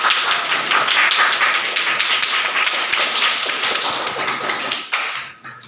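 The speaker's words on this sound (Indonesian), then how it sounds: "tepuk tangan untuk kelompok 3" Students in an Indonesian Islamic studies classroom clap for a discussion group: a loud, continuous patter of many hands that carries on steadily, then tapers and drops away near the end.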